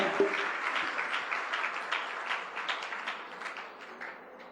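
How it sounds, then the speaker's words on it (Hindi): An audience at a devotional Ekadashi jagran applauds with a burst of fairly close, busy clapping that gradually thins and fades toward the end. "आइए जिया कर्मानी एक बार जोरदार एडवांस में तालियां।"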